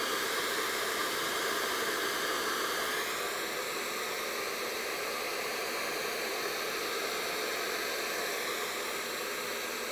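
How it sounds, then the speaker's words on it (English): Hair dryer blowing steadily while drying a section of hair, a constant close whooshing roar that stays even throughout. "I'm just blow drying over this section now just to make sure it's completely dry."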